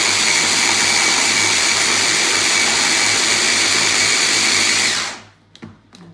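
A food processor whizzing corn fritter batter makes a loud, steady motor whir close by for about five seconds, then cuts out, and a few faint clicks follow.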